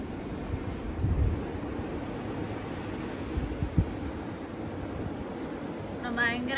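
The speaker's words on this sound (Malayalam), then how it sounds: "കാറ്റ് വീശുന്ന സൗണ്ടാണ് കേൾക്കുന്നത്, ഭയങ്കര കാറ്റാണ്." Strong wind blowing during heavy snowfall, a continuous broad roar that buffets the microphone in low rumbling gusts for several seconds, with a brief voice near the end.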